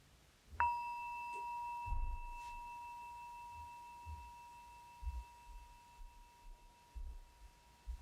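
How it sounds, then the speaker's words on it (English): A meditation bell struck once rings out clearly, its pure tone sustaining and slowly fading for several seconds in a quiet room with faint shuffling movement beneath. "when I ring the bell, I invite you to simply pause"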